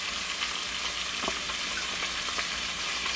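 Eggs with cheese fry in a pan while being stirred, giving a continuous close sizzle with scattered scraping clicks from the utensil against the pan.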